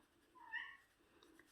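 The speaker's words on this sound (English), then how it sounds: "Oh, that was my little cat saying hello." A small house cat gives a single short, faint meow in a quiet kitchen, brief and tonal, with no talking.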